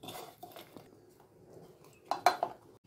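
Boiled potatoes and chopped tomatoes are mixed in a bowl, bringing soft scrapes and a few clinks of a utensil against the dish, quiet and close, ending with a small cluster of sharper knocks.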